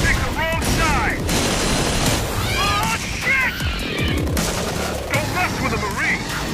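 Gunfire from Aliens: Colonial Marines in a trailer, dense rapid bursts of shots and booms layered with shouted voices and battle noise, loud and continuous throughout.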